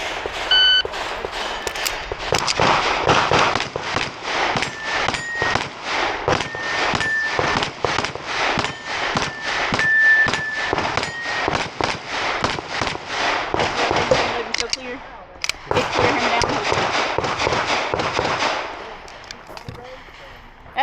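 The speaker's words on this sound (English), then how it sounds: "That's a loud gun." Loud gunshots crack in rapid succession for a long stretch at a USPSA shooting match, dense repeated blasts with a brief pause, then another burst, close and powerful.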